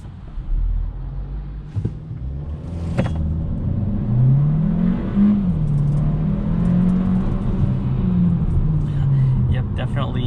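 A 2022 Hyundai Kona N Line engine revving during a brake boost attempt, a droning rev that climbs and wavers under someone talking, with a couple of sharp clicks early on.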